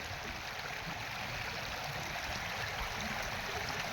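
Steady rushing flow of the Mahisagar river, broad and continuous with no pauses, fairly close and constant throughout.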